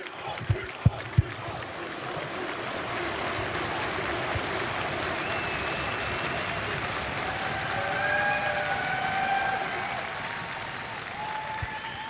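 A large arena crowd at a League of Legends EU LCS Spring 2018 grand final between Fnatic and G2 breaks into loud, sustained applause and cheering, steady throughout with a few sharp claps near the start.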